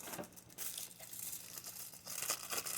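Craft material is being cut, giving soft, close, intermittent crinkling and snipping noises with short bursts scattered through a quiet background.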